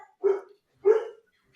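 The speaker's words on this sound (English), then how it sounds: "Looks like Duncan's dog is looking to chime in here." A dog nearby gives two short, separate barks, the second about half a second after the first, with quiet between them and no talk.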